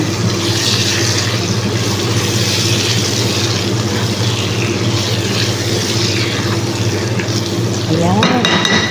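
Red rice with mixed ingredients stirred in a pan, giving a steady close scraping and low sizzle over a constant low hum, with a burst of louder clatter near the end.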